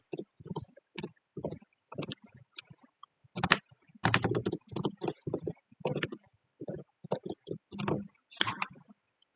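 Typing on a computer keyboard during a Power BI tutorial, with irregular bursts of close, crisp key clicks and short pauses between runs of keystrokes, with no talking over them.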